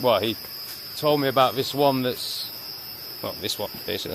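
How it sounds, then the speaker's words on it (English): Cicadas in a forest hold a steady high-pitched buzz through the whole stretch, sitting beneath a man's intermittent speech. "So that noise is, I'm not sure how you say it, cicadas"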